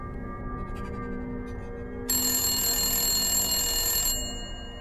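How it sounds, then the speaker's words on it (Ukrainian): Sound effect of a ringing telephone in a horror story: a quiet electronic tone, then a loud shrill ring for about two seconds that fades out, with no voices. "На телефонний дзвінок я відповів не одразу."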